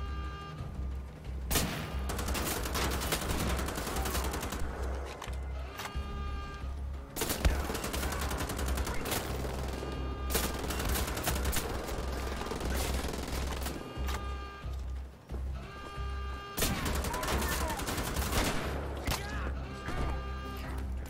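Rapid automatic gunfire from the video game Wolfenstein: The Old Blood, bursts of shots in repeated volleys broken by short pauses, loud and close with no talk.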